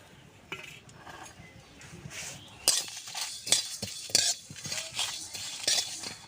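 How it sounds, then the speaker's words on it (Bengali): Whole coriander, fennel seeds and dried chillies are dry-roasted in an empty wok, producing soft rattling, scraping stirs and occasional metallic clinks of a spatula against the pan, close and fairly quiet with no talk. "শুকনো খোলায় ভেজে নেব, দিয়ে দেব গোটা মশলাটা শুকনো কড়াই।"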